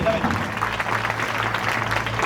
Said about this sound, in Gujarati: અને તમારા બધાની તાળીઓ અવિરત હોવી જોઈએ.